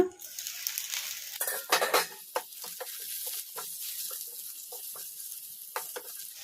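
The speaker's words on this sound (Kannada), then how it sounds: "ಒಂದ್ಸಲ ಮುಚ್ಚಳ ತೆಗೆದು ನೋಡಿ ಕಲಿಸ್ಕೊಂಬಿಡೋಣ ಬದನೆಕಾಯಿನ" A spoon stirs boiling brinjal in a pan for a raita, with irregular scraping and clinking against the metal over a soft bubbling sizzle, close and moderately loud with brief louder strokes.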